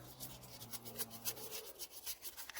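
Steady scrubbing and rubbing while cleaning around the valves and breather of a Lister B engine, a close, soft rasping texture that continues with no talking.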